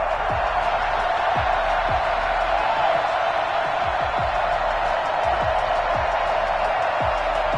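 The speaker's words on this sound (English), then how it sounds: "a moment ago they entered to the delight of this sold-out crowd" A sold-out stadium crowd roars during a Madden 21 football video game, with the Bills hosting the Saints in Buffalo. The noise is a steady, dense wash of crowd sound that continues without a break, and a few soft low thumps are scattered through it.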